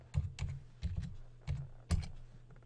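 Keys tapped on a computer keyboard while entering a fastboot command to change the CID on an HTC One phone, five quick bursts of clacks in uneven rhythm, close and fairly loud with a low steady hum beneath.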